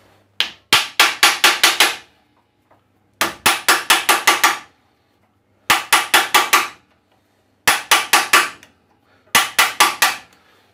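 An impact driver struck with a hammer works loose old, long-seated screws on an Altendorf saw table insert: five loud bursts of rapid metallic blows, each five or six strikes, separated by short pauses with no talk.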